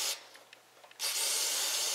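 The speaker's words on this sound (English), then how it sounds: "It's good to have a full can, you know, and then just spray everywhere." An aerosol can of cleaner sprays onto the outside of a 2-stroke carburetor, a short hiss followed by a steady loud spray close by after a brief pause with faint rubbing.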